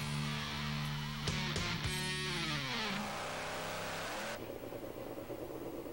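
An alcohol-fueled super stock pulling tractor roars down the track at a 2006 pull in Hamburg, NY, a loud sustained engine howl with sharp pitch sweeps that drops away to a distant rumble near the end.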